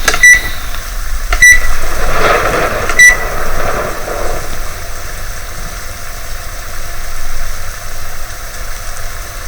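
A microwave oven in a horror video game hums steadily, with a few sharp electronic beeps near the start and a low droning engine-like tone throughout.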